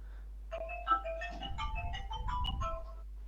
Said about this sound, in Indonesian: ada HP bunyi ya